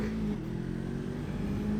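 A motorcycle engine idles and pulls away from a traffic light, a steady close-up drone with a low hum running throughout and no talking.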